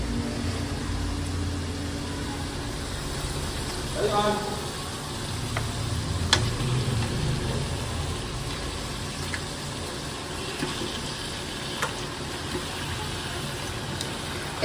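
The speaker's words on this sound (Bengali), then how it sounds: "এখন আমি মশলার ভিতরে মাংসটা দিয়ে দেব" Buffalo meat going into a pan of fried spice paste, with a steady low sizzle and frying hiss and a brief stirring clatter partway through, no talking.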